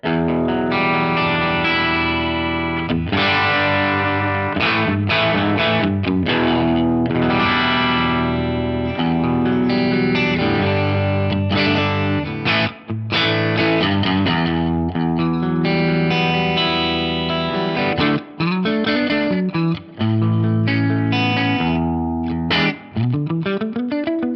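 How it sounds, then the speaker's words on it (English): A distorted Stratocaster electric guitar with bridge and neck pickups blended plays chords and riffs continuously, thick and saturated with a bright edge, some brief pauses, no talking. "So bridge, Then I'm going to blend in the neck on there. Let's hear that."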